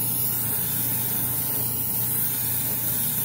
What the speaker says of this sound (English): I'm going to just spray the bottom first